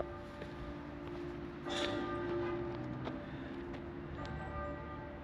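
Church bells chime faintly in the distance, with a soft sustained ringing tone behind open outdoor ambience and a couple of slightly louder strikes partway through.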